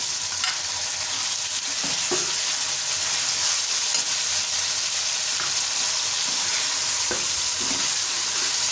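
Meat (gosht), onions and tomatoes being bhuna-fried in a pan, a loud continuous close sizzle with intermittent spoon scrapes and stirring knocks throughout, no talking.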